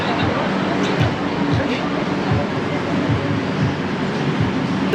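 Metro train in Mexico City's Zocalo station, a steady rumbling roar with faint rhythmic low thumps of wheels over rail joints, close and continuous, with crowd babble mixed in.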